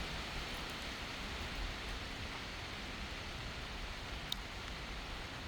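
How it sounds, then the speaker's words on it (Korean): Steady rain falling during an outdoor walk among trees and large leaves, a dense continuous hiss with faint scattered drip taps, even and moderately close, no voices. "빗소리 한번 감상해 보시죠."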